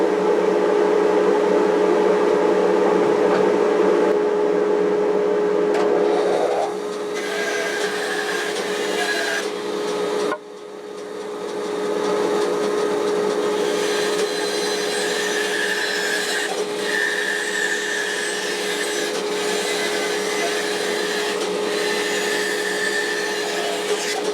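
A workshop dust collector roars loudly and continuously while wood is cut on a lathe, with a brief dip and pitch change midway as the cut changes.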